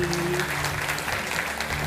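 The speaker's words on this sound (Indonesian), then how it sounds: "Tepuk tangan untuk Kak Oki Madasari." An audience at a televised talk show applauds to welcome a writer onto the stage, a dense, continuous wash of clapping heard close and loud for a short moment with a voice faintly underneath.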